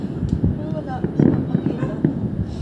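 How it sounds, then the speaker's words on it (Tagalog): Closing fireworks display at the Panagbenga Festival 2025, heard from a distance on a hillside: faint booms and crackling orange sparkle bursts under nearby conversation. "Oh, yun na yung mga orange sparkle. Yan yung last niya ata eh. Yung pumuputok."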